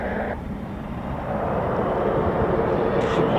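Eurofighter Typhoon FGR4 jet engine starting up at RAF Coningsby, a continuous rushing roar that steps up in level partway through and stays loud and sustained to the end, without speech.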